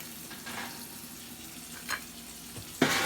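Egg frying in fat on a cluttered home stove, a steady low sizzle running throughout with brief louder spits and a sharp crackling burst near the end.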